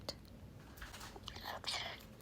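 A talking parrot whispers softly in short breathy bursts, quiet and close, with faint rustling between the sounds.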